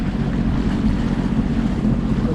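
A Sea-Doo personal watercraft runs steadily up a river, its engine drone blending with water rush and strong wind buffeting the microphone in a continuous, even roar.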